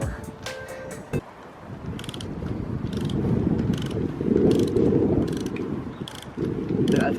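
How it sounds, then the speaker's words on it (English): A torque wrench tightens the lug nuts on a Hyundai Genesis wheel fitted with new tires and spacers, giving close, steady ratcheting clicks and mechanical creaks that continue with a few louder knocks. No one speaks. "Are you actually torquing down your wheels right now?"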